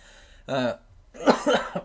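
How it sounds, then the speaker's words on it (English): Two bursts of coughing, a short harsh one followed by a longer, rougher fit, close to the listener with no talk. "I've been having this cough that's been lasting for who knows how long"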